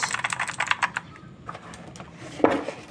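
Typing on a Thunderobot K104S full-size mechanical keyboard: a quick burst of crisp keystrokes, then a pause with a few scattered presses and a sharper clack near the end, close and clear.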